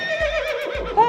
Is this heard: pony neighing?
yes